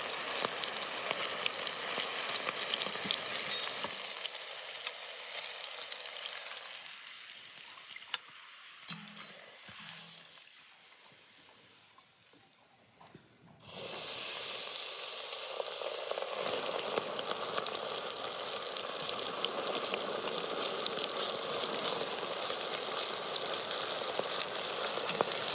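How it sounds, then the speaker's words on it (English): Onion rings coated in egg, flour and breadcrumbs fry in boiling oil over a wood fire in a Carpathian village kitchen, a soft, dense sizzle that dips quieter for a stretch, then surges back and holds steady. "A few minutes in boiling oil."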